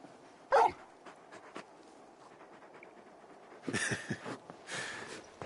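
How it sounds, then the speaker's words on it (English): A large dog whimpers and yips in the fantasy video game Final Fantasy 16, one sharp cry at first, then a cluster of short whining yelps toward the end over a quiet backdrop. "You're just a big puppy, aren't you? A very big puppy."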